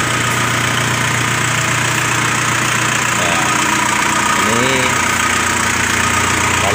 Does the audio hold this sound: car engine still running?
yes